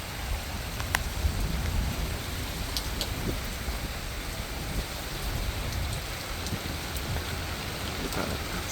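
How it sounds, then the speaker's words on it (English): Cold heavy rain falls steadily and loudly close by, a dense continuous hiss with scattered sharper drop impacts and no talking. "this rain is freezing."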